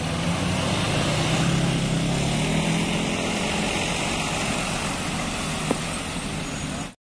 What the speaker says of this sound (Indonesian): Diberangkatkan bus Dewi Sinta Infinity.